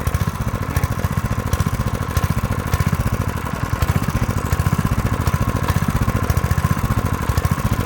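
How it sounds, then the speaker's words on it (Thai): Small engine being revved, a loud, rapid clattering putter with a fast steady pulse that holds throughout, close up and with no voices over it. "เอาตัวนี้เร่งเครื่องขึ้น"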